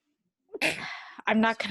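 A single close, sharp sneeze bursts out, followed moments later by a person speaking.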